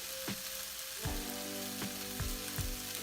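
Bulgur and spices, ground ginger and turmeric among them, sautéing in a pan, a steady close sizzle and crackle with a few soft stirring scrapes, no talk.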